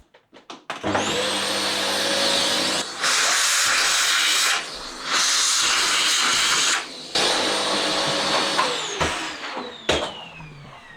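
A vacuum cleaner runs close and loud, used in a workshop while a guitar is being wired, with a steady roaring hiss. It switches off and on several times in bursts, then winds down near the end.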